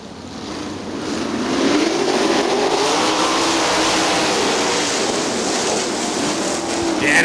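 Sprint cars roar off at the start of a Great Lakes Outlaw Sprint Series race at Winston Motor Speedway, a broad wash of engine noise swelling and holding loud from a distance, with wind buffeting and crowd ambience.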